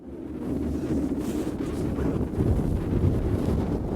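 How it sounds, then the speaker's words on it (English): Strong wind gusting over a small sailboat carrying a storm trysail, with a steady loud roar of buffeting across the microphone that swells and surges throughout, no voices. "a strong wind here is pressing it against the boom"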